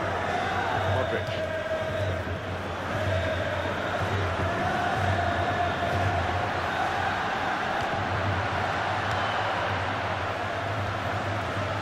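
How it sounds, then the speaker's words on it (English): Steady, dense roar of a stadium crowd in the FIFA 16 football game, a continuous wash of cheering and murmur that holds at an even level throughout, with a faint broadcast tone underneath. "the crowd are loving the drama that we're watching here"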